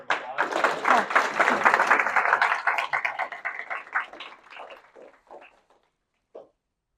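Audience applause after a science presentation, a dense burst of clapping that starts loud and thins out over several seconds into a few scattered final claps.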